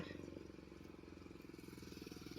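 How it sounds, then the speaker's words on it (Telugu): A motorcycle climbing uphill in third gear on a winding hill road, a steady pulsing engine drone that stays moderately faint and distant throughout the brief stretch. "ఇక్కడ ఒక బైక్ అయితే ఎక్కువస్తుంది ఆయన కూడా థర్డ్ గేర్లో ఏమో వస్తున్నాడు"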